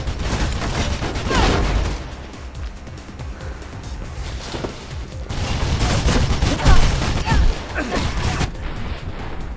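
Dense gunfire in the video game Mirror's Edge, with bursts of rapid shots and crashing impacts rising and falling over several seconds, and a voice talking in between.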